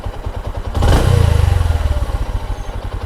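A Honda Platina H-Gear motorcycle engine with a tuned carburetor is revved once in a throttle response check: a loud, rising surge from a steady idle that settles back into an even, rhythmic idle thump, close by with no talk.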